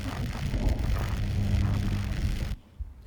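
Looping low bass layer of a magic spell effect for an Unreal Engine game: a steady, rumbling drone with a faint tonal hum, sustained for about two and a half seconds before dropping away.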